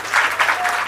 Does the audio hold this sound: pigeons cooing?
no